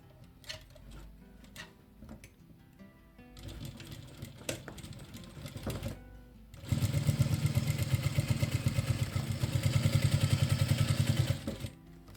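A sewing machine stitches a seam through three layers of a croc-textured tote bag: soft intermittent ticking at first, then a loud, steady rapid run of needle strokes for several seconds before stopping.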